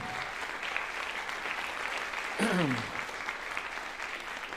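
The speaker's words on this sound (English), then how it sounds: "So a huge round of applause for WPABC." Steady applause from the audience at a high school band winter concert, filling the whole stretch at an even level, with a brief voice rising through it midway.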